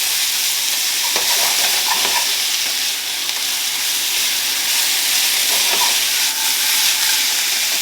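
Chicken fries loudly in a pan of freshly added oil, a dense steady sizzle close up with a few light clatters of the food being flipped, and no talking.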